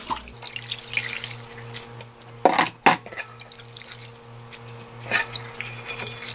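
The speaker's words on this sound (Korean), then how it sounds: "이렇게 먼저요 물에다가 한번 씻어 줄게요" Pickled cucumbers being rinsed under running water in a kitchen sink, a steady tap-water stream with splashing and two louder sloshing bursts near the middle, close and alone without talk.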